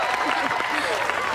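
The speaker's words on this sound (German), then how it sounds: "Einen riesen Applaus für unsere Gastgeberin Abby und Christa!" Guests at a 16th birthday party applaud the hosts, a brief, dense burst of clapping and crowd noise with voices mixed in.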